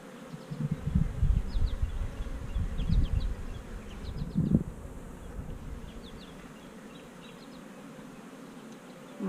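Honey bees buzzing around an open hive, a steady low drone close by that swells and dips, with a few brief louder passes and a faint high bird chirping in the background.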